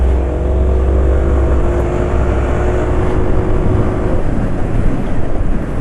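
A car engine runs steadily after an oil change with Valvoline 5W40 PCMO oil, a continuous close, loud low hum and drone with no talk.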